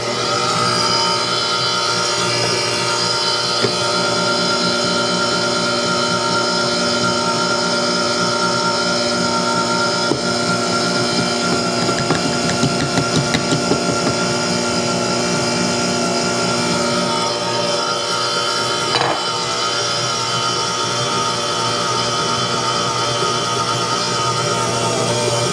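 A GE stand mixer fitted with KitchenAid attachments runs on low speed, mixing flour, salt, baking soda and baking powder: a steady, continuous motor drone with mechanical whir, close and loud throughout, with no talking.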